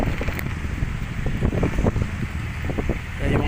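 Steady breeze along the Manila Bay seaside walkway on a hot day, buffeting the microphone with a constant low roar and uneven gusts that persist from start to finish at moderate loudness.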